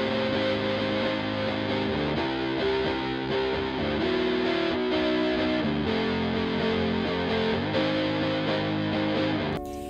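Distorted electric guitar plays the chorus part of a song, sustained chords moving through harmonic changes, loud and steady without pause, ending abruptly with no voice over it.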